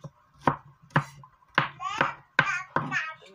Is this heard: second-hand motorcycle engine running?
no